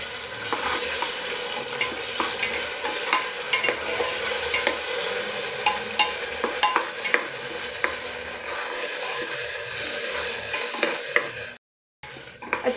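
Onion and ginger garlic paste fry in a pan while being stirred, giving a steady close sizzle with scraping spoon strokes throughout and a brief drop near the end, for mushroom biryani.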